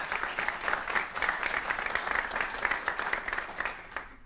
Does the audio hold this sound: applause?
yes